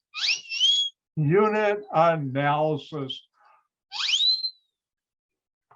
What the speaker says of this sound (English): I love that whistle siren.